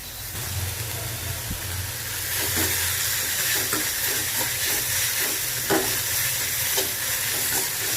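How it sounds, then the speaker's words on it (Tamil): Onions cook in a pan with a continuous sizzling hiss, while occasional utensil scrapes and taps stir them, close and steady throughout. "வெங்காயம் நல்லா வேகட்டும்."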